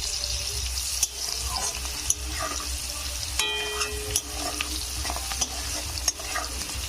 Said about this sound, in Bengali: এখানে আমি নেড়ে দেবো এইভাবে